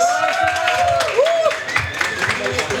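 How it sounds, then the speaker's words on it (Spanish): Applause from a storytelling audience welcoming a performer at a book fair event, steady clapping throughout with voices and pitched speech-like tones laid over it. "reciban con un fuerte aplauso a Marjorie"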